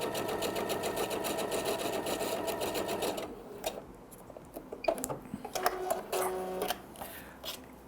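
A sewing machine stitches patchwork fabric in a fast, even mechanical rattle for about three seconds, then stops, followed by shorter bursts of stitching mixed with handling and clicking noises, close by and without speech.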